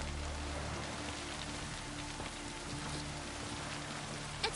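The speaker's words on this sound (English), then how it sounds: "It's raining." Steady rain falls across the world of The Witcher 3 game, a dense even hiss with a faint low hum beneath, unbroken for several seconds and without speech.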